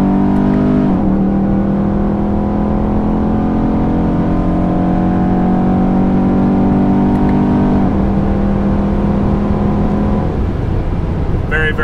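A Camaro or Corvette with an 8-speed automatic accelerates hard from about 80 mph, the engine droning loud and steady from inside the cabin, its pitch rising, dropping as the transmission kicks down near eight seconds, then climbing again.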